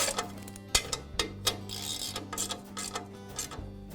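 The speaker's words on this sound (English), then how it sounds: "I'll place the belt cover over the belt, aligning it with the holes, and I'll secure it with the bolts." Bolts being tightened to hold the belt cover on an MK Diamond tile saw, with sharp metallic ticks and ratcheting clicks in an irregular rhythm over a steady low hum, close and moderately loud.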